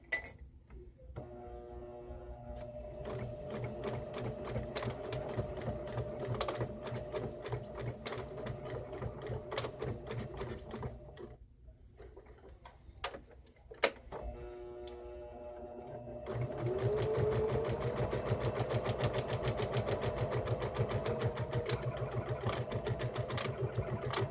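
A sewing machine stitches the sides of a cloth face mask, running in a steady rapid mechanical chatter with a brief pause midway before resuming louder, close up with no talk.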